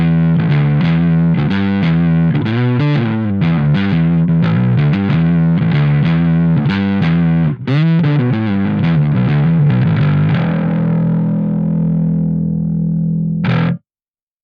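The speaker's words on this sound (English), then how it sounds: "on top of distortion for the mid-range, we have an independent distortion for high frequencies as well" A bass line driven through the Parallax X distortion plugin, with separate mid-range and high-frequency distortion and a high-pass setting, plays as a loud, gritty, buzzing sequence of notes, then settles into a sustained tone before cutting off abruptly.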